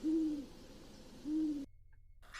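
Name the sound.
great horned owl hooting call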